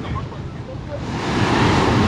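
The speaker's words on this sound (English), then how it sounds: "even though the waves are crazy like this, check that out." Rough ocean waves crash near a natural pool on the Aruba coast, a broad roaring surf that swells louder toward the end, with wind buffeting the microphone.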